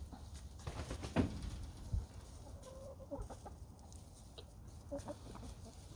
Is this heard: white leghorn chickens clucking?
yes